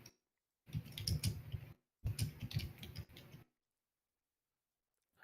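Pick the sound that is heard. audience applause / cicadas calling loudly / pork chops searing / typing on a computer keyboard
typing on a computer keyboard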